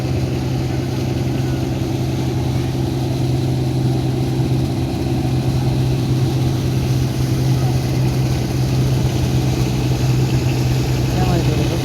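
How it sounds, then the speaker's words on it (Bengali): A trawler boat engine drones loud and close on a river near Narayanganj as the vessel turns, a steady low throbbing hum that continues unchanged throughout with someone talking over it. "ট্রলার ঘোরাচ্ছে"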